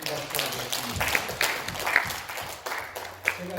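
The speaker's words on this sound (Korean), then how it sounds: "이렇게 해주신 하나님께 영광의 큰 박수를 드립니다" A church congregation claps during a Sunday worship service, a broad patter of applause running through the whole moment with a voice talking over it.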